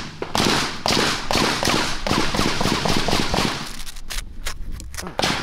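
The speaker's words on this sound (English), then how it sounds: "You wanna shoot at the mannequin?" Gunfire at fake Amazon body armor on a mannequin: a long run of rapid, loud, sharp cracks in steady succession outdoors, with a brief pause and a last shot near the end.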